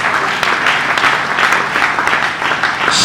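Church congregation clapping together in sustained, steady applause, loud and close, filling the space for about three seconds with no distinct voices above it.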